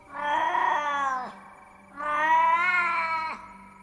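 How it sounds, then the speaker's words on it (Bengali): A cat cries out at night in a forest, two long, loud, wailing yowls, each rising and then falling away, with a short quiet gap between them. "শুনলাম একটা বিড়াল একভাবে কেঁদে চলেছে।"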